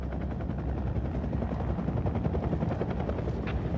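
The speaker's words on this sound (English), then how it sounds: "The helicopters." Rapid rhythmic thumping of helicopter rotors, steady and fairly distant, with a constant low mechanical roar underneath.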